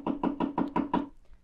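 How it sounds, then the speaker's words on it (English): Six quick, evenly spaced knocks on a wooden door, close and distinct, followed by a brief silence. "John anxiously knocked at the door."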